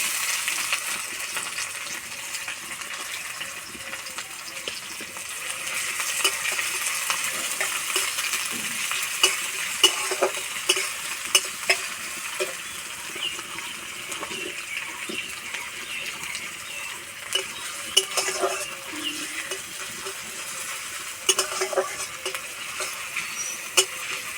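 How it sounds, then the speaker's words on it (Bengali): Chopped onions frying in oil with whole spices such as bay leaf, cinnamon and cardamom for a Bengali besan egg curry, giving a steady broad sizzle with frequent light stirring clinks and scrapes throughout, no talking. "পেঁয়াজ ভাজা হয়ে গেছে।"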